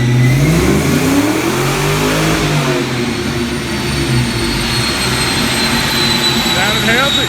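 A 1986 Mustang GT with an Explorer intake, shorty headers and a mild cam revs hard on a dyno. The engine note climbs and falls in loud sweeps, then holds a roaring steady pitch.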